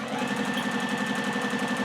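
A sewing machine runs at a steady, even pace during free-motion straight-stitch quilting, its rapid needle clatter repeating rhythmically and fairly quietly, close by with no voices.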